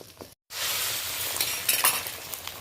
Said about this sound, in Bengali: ডিমের অমলেট করার সময় একেবারে হালকা আঁচে করবেন